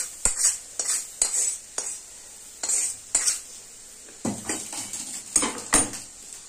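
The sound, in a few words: cooked spinach being stirred and scooped from pan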